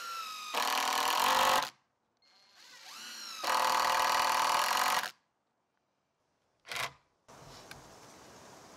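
Power driver sinking 3-inch deck screws into lumber for a shed wall, several loud whirring bursts of one to two seconds each, separated by silent pauses, with a short final burst.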